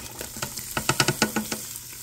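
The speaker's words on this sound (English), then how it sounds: "we're just going to stir those around" Onions and celery sizzling in a pressure cooker as they are stirred, with a quick series of scraping, crackling strokes in a steady rhythm.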